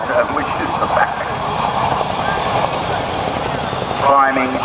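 Military transport helicopter with seating for up to 44 troops, flying backwards overhead; steady loud rotor and turbine roar with a brief sharper blade chop near the end, heard outdoors from the ground.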